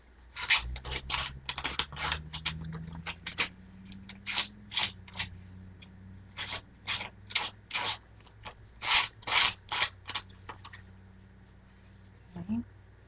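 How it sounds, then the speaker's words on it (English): A craft piece is sanded by hand for a watercolor layout, with close rhythmic bursts of rasping strokes that pause and restart. Faint hum lies underneath. "Sand this guy up. We're going to sand the other things up."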